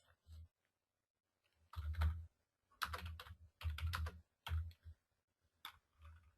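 Close, soft clatter of typing on a computer keyboard, in irregular bursts of rapid key clicks separated by short pauses, fairly quiet and alone.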